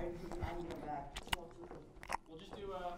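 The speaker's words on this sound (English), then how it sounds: "I'm doing ASMR. I'm chewing gum." Gum chewed up close for ASMR, a series of soft, wet, smacking bites and squishes with a few sharper clicks, under a steady low background of room noise and voice-like tones.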